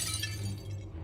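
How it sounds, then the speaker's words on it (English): Glass shattering in Legacy of Kain: Soul Reaver as a hammer smashes a mirror, a bright crash at the start that fades over about a second above a steady low game drone. "You take a mighty swing with the hammer. A good section of the mirror shatters"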